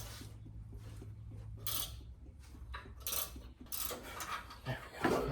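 Ratchet and wrench working loose exhaust manifold bolts on a 1969 Ford F250, with repeated metallic clicks, clinks and scrapes in uneven bursts over a low hum; close and fairly quiet, no talking.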